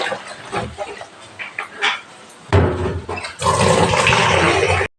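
Water poured after cleaning out an iron-stained filter, a loud close splashing pour that swells and runs steadily to the end, following quieter clatter and handling.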